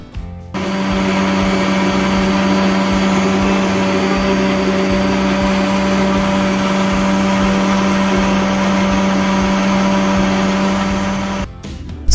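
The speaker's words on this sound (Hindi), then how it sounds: "सबसे पहले इमली को ब्लेंड कर लिया, उसके बाद आलू बुखारा अब मैं ब्लेंड करने लगी हूँ।" A kitchen blender whirs as it purées tamarind and dried plums for a date and jaggery chutney. The motor holds a loud, steady drone for about eleven seconds, then cuts off abruptly.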